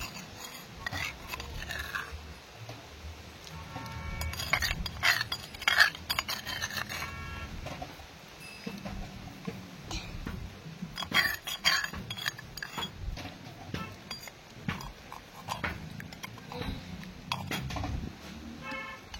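Soaked rice being tipped into a cooking pot for sweet pongal, heard as faint scattered clinks and scrapes of metal utensils and vessels, with little talk.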